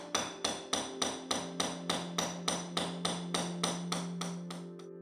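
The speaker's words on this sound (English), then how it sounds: "I'm going to be using a bold chasing tool, which is rounded and polished, and a very heavy hammer" A very heavy hammer drives a rounded, polished bold chasing tool into silver, striking about a dozen times in a steady, even rhythm, each sharp metallic tap ringing briefly, close and alone.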